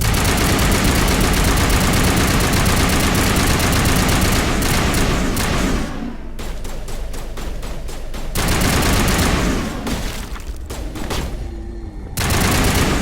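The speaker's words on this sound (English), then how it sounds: "She got a fucking shotgun." Shotgun fire in the video game Mass Effect: loud, dense bursts of gunfire pound almost continuously, broken by two brief lulls before the shooting resumes.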